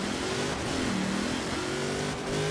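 A car engine in the racing game Forza Horizon 4 accelerates steadily, its revving tone rising in pitch over a constant dense roar that stays loud and close throughout, with no speech.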